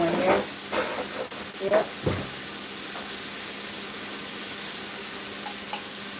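Water running from a kitchen tap while food is rinsed, a steady close hiss with a few clatters early on and a brief spoken word.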